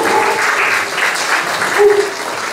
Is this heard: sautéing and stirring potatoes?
no